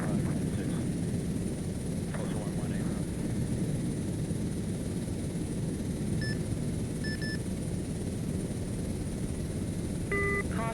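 A Chinook helicopter in a military video game gives off a steady, loud rotor and engine drone throughout, with a few short electronic cockpit beeps.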